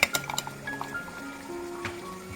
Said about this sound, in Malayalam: നമ്മൾ ജാറിലേക്ക് ഈ സോക്ക് ചെയ്ത് വെച്ചിട്ടുള്ള ബദാമും കശുവണ്ടിപ്പരിപ്പും ഇട്ട് കൊടുക്കുകയാണ്.